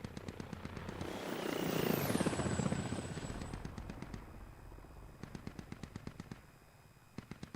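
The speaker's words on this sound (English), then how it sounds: "You have another helicopter flying over." A helicopter in a military shooter game sweeps overhead as a swelling, broad rotor rumble, mixed with rapid machine-gun bursts and a falling whistle, then fades while scattered gunfire crackles on.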